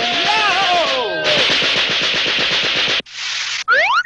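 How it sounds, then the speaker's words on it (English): Cartoon Gatling gun sound effect: a loud, rapid, even stream of machine-gun shots rattling for about two seconds, after wavering whistling tones, followed by a brief burst and a rising zing. "This is a Gatling gun."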